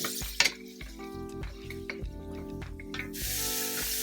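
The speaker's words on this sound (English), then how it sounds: "Turn down the heat, and the garlic, and I'm going to just cook that down a bit" Garlic and bay leaf sizzling in a pan over turned-down heat for Filipino adobo chicken, a soft frying crackle with light clinks of utensils and a brighter hiss rising near the end.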